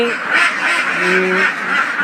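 Ducks quack on an enclosed duck farm in a few short, nasal calls, with a voice talking over and between them.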